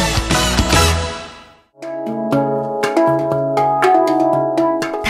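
Clear, bell-like steel notes from a handpan ring out one after another in a slow, melodic pattern with long sustains. A brief burst of denser sound comes first, and no voices are heard.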